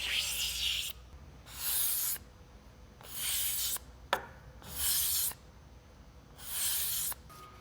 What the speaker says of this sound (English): You can see it when the filler is fully hardened. It scrapes really, really well.